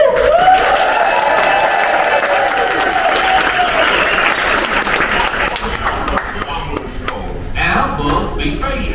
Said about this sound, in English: let's give a big round of applause for our bears